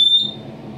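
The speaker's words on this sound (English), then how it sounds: "We have an alarm going off." A Cavius thermal heat detector alarm sounds near a small fire: a loud, sustained high-pitched electronic tone that holds steady for a moment, then drops away into a broad background rumble.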